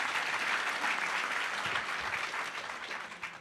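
A crowd applauds the AV crew at the HOPE X hacker conference closing ceremony, steady dense clapping that holds evenly for a few seconds before tapering slightly at the end.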